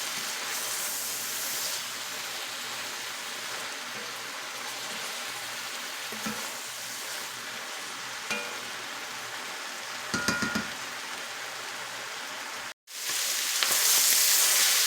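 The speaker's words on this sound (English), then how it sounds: "See, the liquid's been absorbed, but we're still frying." Garden cabbage frying in a little oil in a pan gives a steady, even sizzle throughout. A few small clinks and stirring bumps break it near the end, with a brief dropout just before.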